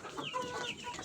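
Chicks cluck softly and repeatedly at close range during feeding, a faint, quiet chatter of young birds with no talk over it.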